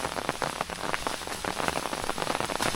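Rain falling steadily on a misty mountain hiking trail, a dense close patter of drops on surfaces, continuous and fairly loud with no talk.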